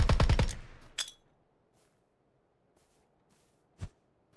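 A rapid full-auto burst from a VSS rifle in the video game PUBG rattles off at close range, followed by a single shot and then a distant crack, with quiet gaps between them.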